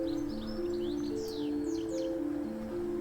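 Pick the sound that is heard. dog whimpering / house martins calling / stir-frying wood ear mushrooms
house martins calling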